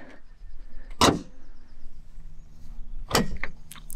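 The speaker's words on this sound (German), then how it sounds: "Und wenn ich jetzt hier den Kofferraum schließe" A Porsche 997.2 Carrera S front trunk lid closing: two sharp thuds about two seconds apart, the second with a brief rattling tail, over quiet outdoor background.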